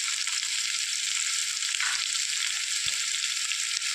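Chopped onion and green chilies sizzle steadily in a hot pan, a continuous bright frying hiss with a couple of soft stirring knocks.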